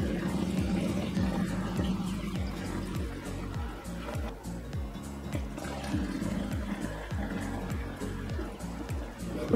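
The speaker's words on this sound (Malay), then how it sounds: "Air panas ni masukkan 6 liter." Six liters of hot water poured into a drink jar for a peach tea mojito, a continuous gurgling, rushing pour with a low rhythmic glug throughout.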